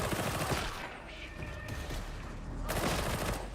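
A gun fires a short controlled burst in the video game Warhammer 40k Darktide, heard as a loud, close rattle of rapid shots at the start and another burst near the end, with quieter game noise between.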